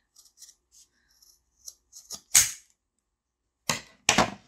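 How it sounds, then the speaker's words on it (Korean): Sharp snips of scissors cutting through macrame cord for a plant hanger, a few light clips followed by three loud, close crunching cuts with pauses between them. "그 다음에는 여기를 잘라주시고"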